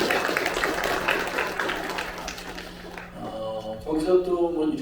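Church congregation at a Friday evening worship service applauding warmly, a dense sustained wash of clapping for conference attendees, fading out as a voice begins speaking over it.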